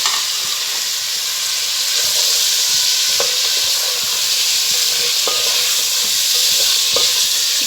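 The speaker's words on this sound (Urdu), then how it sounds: "چکن جتنی دیر فرائی ہوتا ہے" Chicken pieces fry for a Shahi chicken korma, giving a loud, steady sizzle and hiss from the pan for the whole stretch, with a few sharp stirring clicks and scrapes along the way and no talking.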